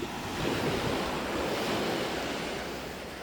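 Gentle sea waves wash steadily onto a beach on a calm day, forming a continuous soft roar of surf with faint wind and no voices.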